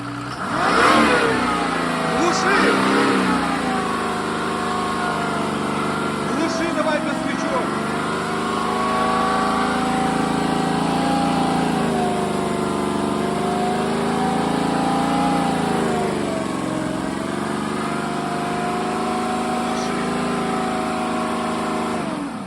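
A Mercedes OM603 diesel engine driving a PN-40 pump runs steadily at close range with a low, throbbing hum, its pitch rising and dipping slightly as it revs, while voices talk faintly over it.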